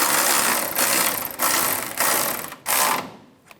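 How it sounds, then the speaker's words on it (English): A ratchet tightens the bumper bracket bolts on a 1999-2006 Chevrolet Silverado 1500, giving loud, close bursts of rapid clicking. There are four or five separate runs with short pauses between them. "Now we're going to tighten up the bracket bolts, these two first, just snug first."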